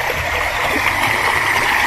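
Irrigation water flows into a farm field, a steady, close gurgling rush with no pauses and no talking.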